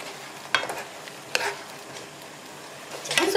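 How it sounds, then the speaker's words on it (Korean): Seasoned meat and sliced shiitake mushrooms stir-frying in a pan, a soft sizzle broken by a few distinct spatula scrapes, with the frying swelling louder near the end. "양념을 충분히 해갖고 고기를 볶아주시면 됩니다"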